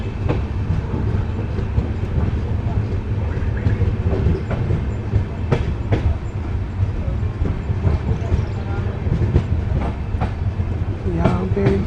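The 14505 Nangal Dam Express rolls along the rails, heard from inside with a steady loud rumble and rhythmic clickety-clack of wheels over track joints, with occasional faint voices in the carriage.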